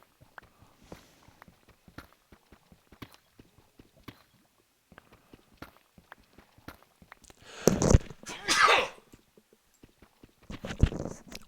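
A person sneezes twice in quick succession, two loud close bursts, amid a backdrop of faint, scattered soft clicks and otherwise quiet surroundings.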